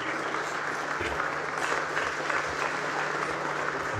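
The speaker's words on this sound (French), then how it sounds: "on peut l'applaudir" A ceremony audience applauds a former miner who joined the 1941 strikes under Nazi occupation, honored with the Légion d'honneur. The clapping is dense and steady, a continuous wash of many hands lasting the whole stretch at an even loudness.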